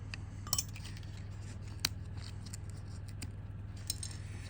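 A purfling strip being cut to length by hand, a few sharp snips and clicks spaced over a low steady workshop hum, close and fairly quiet.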